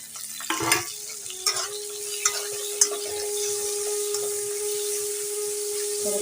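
Onion frying in a pan with green chillies, a steady sizzle and bubbling throughout, with a few brief clinks of stirring near the start.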